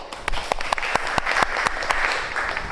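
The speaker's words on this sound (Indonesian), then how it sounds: "Tepuk tangan untuk Jenny" Applause from a classroom of students, a loud, steady patter of many hands with a few sharper individual claps standing out, carrying on through the whole short stretch with no talking.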